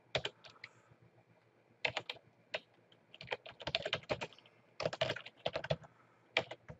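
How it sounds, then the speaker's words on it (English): Keys clatter on a computer keyboard as a word is typed, in quick close bursts of keystrokes separated by short pauses, with no talking. "I might just type in subscribe."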